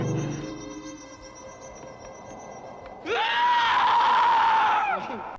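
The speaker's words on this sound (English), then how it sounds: "She's coming across this log. She lets out this shriek." A woman's long, piercing shriek near the end of the 1983 slasher film The Final Terror, loud and sustained for about two seconds after a quieter stretch of low film sound with faint tones.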